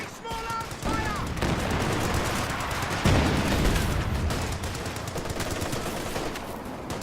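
Dense video game gunfire crackles in rapid overlapping bursts with machine-gun rattle and a heavier thump near the middle, loud and sustained, with a voice briefly under it.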